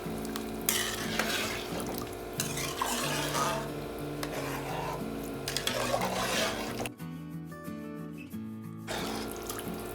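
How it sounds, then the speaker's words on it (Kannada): A spoon stirs a tomato bath mixture inside an open pressure cooker, with repeated scraping, swishing strokes against the metal pot over soft background music, with a brief pause near the end. "ಈಗ ನೀಟಾಗಿ ಮಿಕ್ಸ್ ಮಾಡ್ಕೊಳ್ಳಿ."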